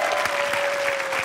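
A television studio audience applauds a contestant during the voting round of a comedy game show, a loud, dense burst of clapping with a faint steady tone beneath.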